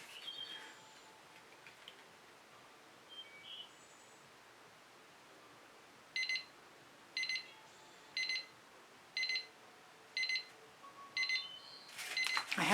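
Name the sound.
timer alarm ringing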